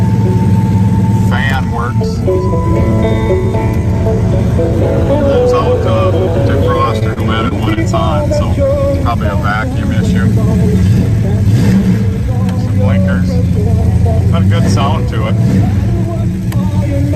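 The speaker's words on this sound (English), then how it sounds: "We're gonna start up our 73 Satellite here with a 318" A 1973 Plymouth Satellite with a 318 V8 fires up and settles into a steady, loud idle close by, with a few revs, while people talk over it.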